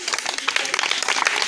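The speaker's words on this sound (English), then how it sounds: "Maybe we need a clap, clap, clap," Several people clapping their hands together in a room, a dense, even patter that lasts a moment and a half.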